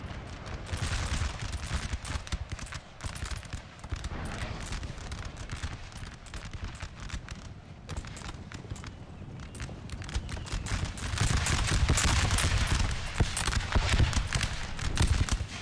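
Musket volleys crackle and cannons boom in Napoleon Total War, a dense, rolling battle din of rapid overlapping shots with galloping hooves mixed in, loud and sustained throughout.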